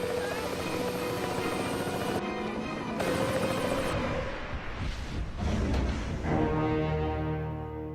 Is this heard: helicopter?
yes